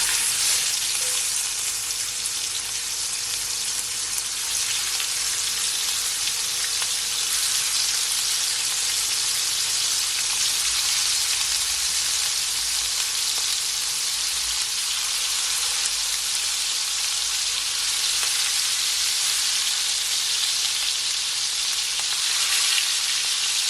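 Jerk honey lamb chops fry in a pan with a loud, dense, unbroken sizzle that holds steady from start to finish, with no talk.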